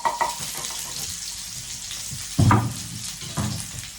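Peppers and onions fry in a pan as the base for a leftover-fridge paella, a steady close sizzle with a few louder crackling bursts when the food is stirred or shifted.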